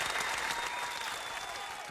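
A studio audience claps steadily for a rap artist on a talk show, a dense, even wash of applause that holds for the whole stretch.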